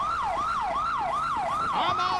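An ambulance siren in GTA 5 with the LSPDFR police mod wails in a steady, repeating up-and-down sweep, loud and close, about five cycles without a break.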